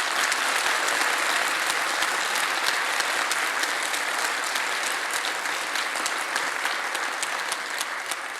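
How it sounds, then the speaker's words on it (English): Dense, continuous applause from a large audience at a Nobel Prize 10th anniversary event, steady and even throughout with no voices breaking through. "So another round of applause."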